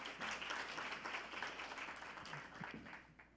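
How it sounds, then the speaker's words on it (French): A conference audience claps as a panelist is introduced at an urban densification event, a soft, distant wash of many hands that runs steadily and fades slightly toward the end. "On applaudit."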